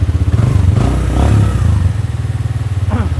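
Suzuki GZ motorcycle engine idling steadily up close, a deep throbbing thump with a couple of brief revs, low-pitched and continuous throughout with no talk.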